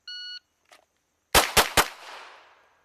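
Three sharp gunshots in quick succession during a timed shooting drill, loud and close, preceded by the shot timer's electronic start beep and followed by a short echoing decay.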